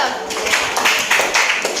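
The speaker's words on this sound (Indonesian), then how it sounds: "Tepuk tangan untuk Mido" A classroom of students claps for a classmate: a short burst of rhythmic, group clapping in quick, even beats, heard close and fairly loud with voices mixed in.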